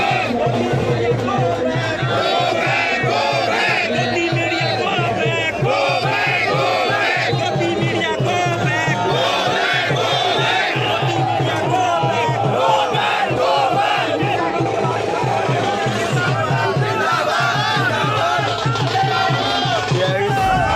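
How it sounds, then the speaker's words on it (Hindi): A dense crowd chants slogans against the media, many voices shouting in rhythmic repeated phrases, loud and close, sustained throughout with overlapping cries. "वहां भी नारेबाजी यही हुई, गोदी मीडिया यहां से जाओ, गोदी मीडिया मुर्दाबाद"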